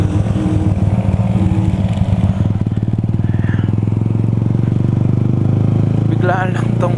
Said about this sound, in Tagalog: Lumakas lalo yung motor ko.